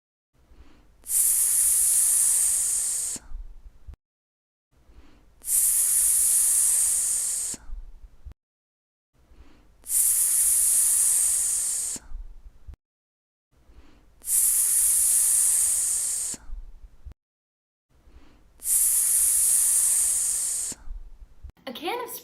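A voice imitates the sizzle of an egg frying on a hot pan with a sustained hissing "sss", held in five bursts of about three seconds each, separated by short pauses.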